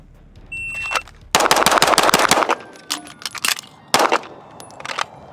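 A handgun fires a rapid string of shots during a timed speed reload drill, with a brief pause and then more quick shots, loud and close with sharp echoing cracks.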